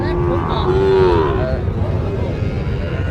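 A young Sahiwal bull lets out a single low, drawn-out moo close by, with background noise throughout.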